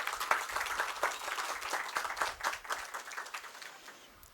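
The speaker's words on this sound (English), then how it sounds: "please give him a warm round of applause." An audience at the Gokhale Institute of Politics and Economics claps for a guest speaker, a modest, uneven patter of hands with individual claps standing out, moderately close and tapering off at the end.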